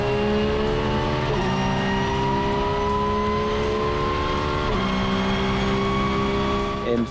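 A race car engine at Monza climbs through the gears in a Michelin Le Mans Cup race, loud and close, its rising whine pulling up steadily with sharp drops at each upshift.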